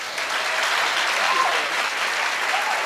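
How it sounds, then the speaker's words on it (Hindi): Sustained applause from an audience at a Maheshwari community Mahesh Navmi music event after a song, steady and dense clapping filling the room with no break for nearly three seconds. "तालियां बजाइए"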